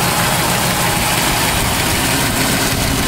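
A 1950 Oldsmobile Rocket 88 engine idles smoothly up close, a continuous low rumbling drone with no speech.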